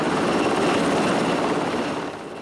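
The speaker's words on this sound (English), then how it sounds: "Some were rescued by helicopters, which braved intense heat and smoke to pluck people from the roof." Steady rotor roar of a rescue helicopter over a burning high-rise in Kowloon, Hong Kong, loud and continuous, with broadband noise that fades slightly toward the end.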